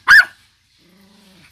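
A single sharp dog bark rings out close and loud at a home, followed by a faint low growl trailing off.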